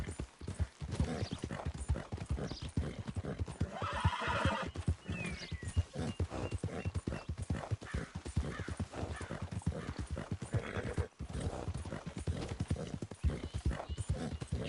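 A horse galloping in Red Dead Redemption 2, a continuous fast drumming of near hoofbeats that runs unbroken for the whole stretch, with whinnies and neighs rising over it now and then.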